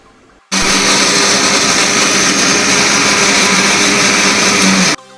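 A kitchen mixer grinder runs at full speed, grinding coconut sambar masala with water: a loud, steady whirring motor drone that starts abruptly, holds evenly for about four seconds, then cuts off.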